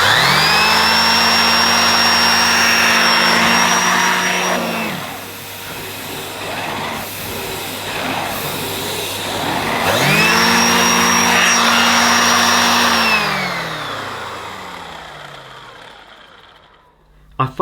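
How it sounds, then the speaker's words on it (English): Numatic Henry HVA 160-11 vacuum cleaner with a turbo nozzle, loud and close, whining up to full power, dipping as it works, surging again, then spinning down to silence. "So there's the main turbo nozzle. Again, I'm going to switch this on, so beware headphone users."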